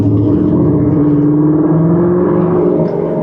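Old car body built like a Mustang, driving: a steady, loud mid-pitched engine drone with a slight rise in revs, heard from inside the cabin with the window open, no talking.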